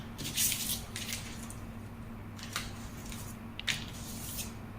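Scissors snipping through circle skirt fabric, a few quiet crisp cuts in short bursts with soft rustling between them, close and alone.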